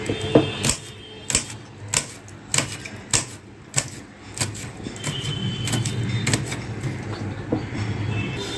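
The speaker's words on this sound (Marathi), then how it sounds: "आता हे मिरच्या ज्या आहेत त्या पण अशा एकदम बारीक करून घ्यायच्या आहेत आपल्याला" Knife finely chopping green chillies on a board, sharp rhythmic taps roughly twice a second, close and clear, with a steadier run of quicker cuts toward the end, no speech.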